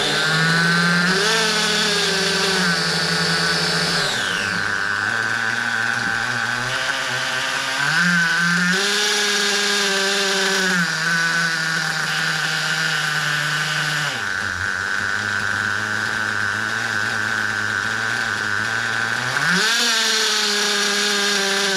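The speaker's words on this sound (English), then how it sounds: "Another nitro engine comes to life." A freshly built Triton nitro engine firing up for the first time, running loud and close with a high, buzzing whine that rises and falls as the throttle is blipped, unbroken through the whole stretch.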